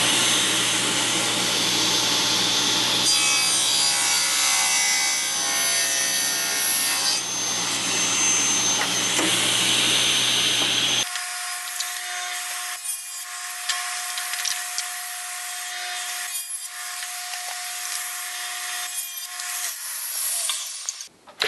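A table saw cutting the wooden sides of a jewelry box, a loud steady whine of the blade biting through wood, then the motor running on with a clear tone as the cut ends.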